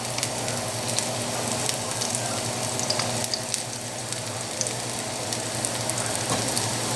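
Garlic sizzles steadily in extra virgin olive oil in a hot pan, a continuous broadband frying hiss with small crackles, close and even throughout with no talk.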